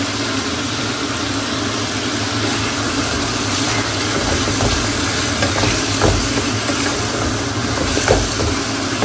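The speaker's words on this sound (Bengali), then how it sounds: "চিকেনটাকে একটু পেঁয়াজের সাথে ভেজে নিই" Chicken frying with onions and roast masala, a loud dense sizzle running the whole time with scattered clicks of stirring and a low rumbling hum underneath.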